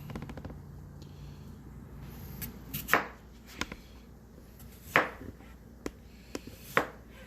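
A knife cuts even slices of food for a hamburger casserole, about five crisp, separate cuts landing at uneven intervals against a quiet background.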